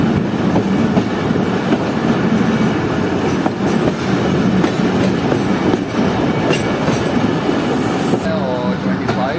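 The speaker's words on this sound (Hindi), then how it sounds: "हमारी ट्रेन इस वक्त अप्रोच कर रही है मुबारकपुर रेलवे स्टेशन पर" Zikriya Express passenger train approaching Mubarakpur railway station in Pakistan, heard from on board: a steady loud rumble with clickety-clack of wheels over rail joints, occasional squeals and creaks, and a voice briefly audible.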